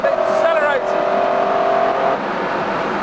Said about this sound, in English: It just goes on accelerating and accelerating.